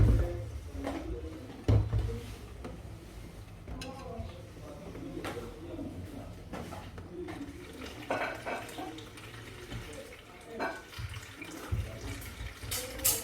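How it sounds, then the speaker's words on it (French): Tap water runs steadily into a sink while beef is rinsed in a container for boeuf bourguignon, with occasional clinks and knocks of the dish against the basin. "On rince d'abord."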